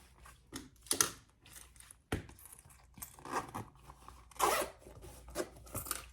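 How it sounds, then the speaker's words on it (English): Small plastic pieces are pulled and snipped off a fabric pouch's zipper pull, giving scattered close-up crinkles, clicks and sharp rustles in short bursts with pauses between, no talking. "Take the little plastic off my zipper pull."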